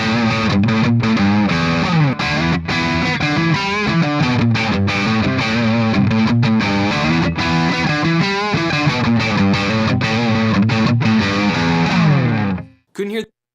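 Distorted electric guitar playing a dense, repeating riff with a warm, rounded tone, loud and continuous, cutting off abruptly near the end.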